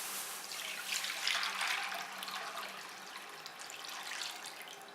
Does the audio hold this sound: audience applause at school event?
no